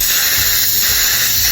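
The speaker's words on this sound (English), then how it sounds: "See how I just spray that lightly." A continuous loud hiss of spray glue from a nearby spray gun nozzle onto fabric, steady for the whole moment with slight pulsing underneath.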